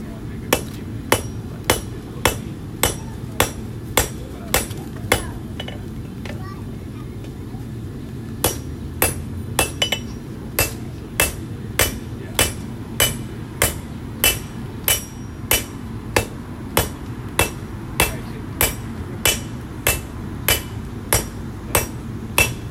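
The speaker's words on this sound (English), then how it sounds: "Let's impress everybody with my hammer skills." A hand hammer strikes a knife blade on an anvil during a live bladesmithing forge demonstration, ringing blows landing in a steady, even rhythm with one brief pause partway through, loud and close.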